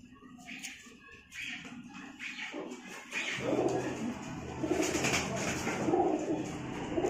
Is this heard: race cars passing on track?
no